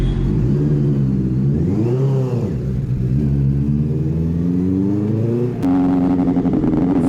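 A superbike engine in Goa revs up and down, its pitch swooping through several rises and falls before a sharper, louder burst near the end, heard close and alone.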